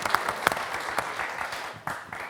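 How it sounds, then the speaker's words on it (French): A studio audience on a French TV quiz show claps for a correct answer, a brisk round of applause with a few sharp, distinct claps standing out near the start before it thins and resumes. "Alors là, ça s'applaudit."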